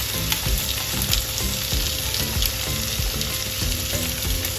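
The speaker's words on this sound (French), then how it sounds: "La poêle est bien chaude, je vais mettre mes magrets côté graisse en premier." Duck breasts (magrets) searing fat side down in a very hot pan, a loud continuous sizzle with crackling pops and occasional faint clinks, close up, no talking.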